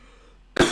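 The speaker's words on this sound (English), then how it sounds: "cough it out." A single harsh cough from someone who ate peanuts too quickly, bursting loud and close out of near silence near the end.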